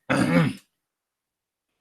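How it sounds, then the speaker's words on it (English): A single short, gruff throat clearing, close and loud, followed by silence. "let me clear my throat"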